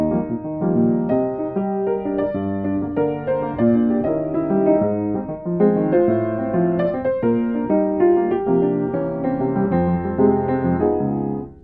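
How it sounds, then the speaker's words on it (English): Solo piano renders a song as a faster samba-style Latin rhythm, busy syncopated chords and bass driving under the melody, full and steady with no talk. "is a faster Latin rhythm"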